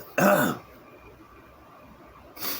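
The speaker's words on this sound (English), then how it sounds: "sorry about the coughing" A man coughs and clears his throat loudly at close range, one harsh burst of rough hacking followed after a quiet pause by a shorter second cough.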